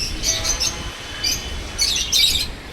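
Several bursts of high, bright chirping from parrots and lovebirds, close by, in quick clusters over a faint steady background hum.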